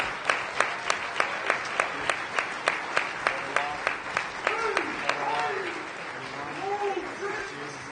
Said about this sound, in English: Let's give both of our Hall of Fame inductees this year a hearty round of applause.